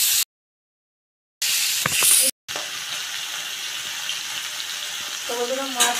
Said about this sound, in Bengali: একে একে সব মাছগুলো আমি ভেজে নেব